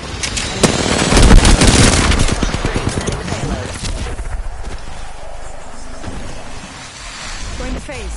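Rapid bursts of video game gunfire in a PS4 shooter, loud and dense early on, then continuing as scattered shots beneath a player's voice talking over it.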